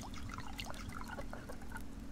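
Water is collected in the survival video game Subsistence, heard as a soft continuous trickle and dribble over a steady low background hum, with a few faint drips and no speech.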